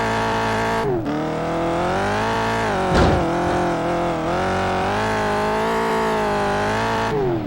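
A car engine in the racing game Test Drive: Eve of Destruction drones and revs steadily and loudly, pitch rising and falling through gear changes with a brief burst near the middle, no talk over it.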